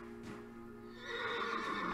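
A horse in the video game Cowboy Life Simulator neighs in a rising whinny, with light hoof clip-clop underneath. It is fairly quiet and heard alone, with no talk.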